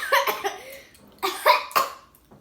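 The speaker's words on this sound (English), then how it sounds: "That was a fake cough." A deliberately faked cough comes in several short forced bursts, close and clear, with quiet gaps between them during a spicy wing eating challenge.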